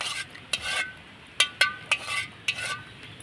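A spoon stirs sugar syrup tinted with a little yellow food colour for gulab jamun, giving several short metallic clinks and scrapes against the pot, heard close and fairly quiet over a soft background hiss.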